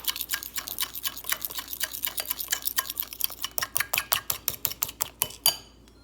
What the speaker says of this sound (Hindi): फिर दोबारा हम इसे बीट करेंगे।